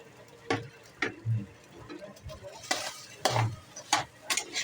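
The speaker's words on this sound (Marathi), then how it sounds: "एकदम मंद आचेवर खिचडी भाजून घ्यायची" Khichdi with boiled potato is stirred and roasted in a pan over low heat: a spoon scrapes and taps the pan in irregular strokes over a soft, faint sizzle.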